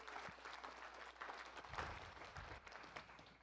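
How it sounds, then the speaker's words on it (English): A panel audience at a care conference applauds a clinic director's announcement, a faint, distant patter of clapping that holds steady for a few seconds. "Big applause for that."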